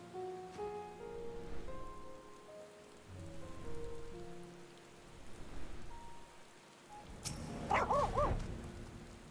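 A Shiba dog in Final Fantasy XIV barks a few times near the end, the barks rising over steady rain pattering on surfaces, with soft game music earlier.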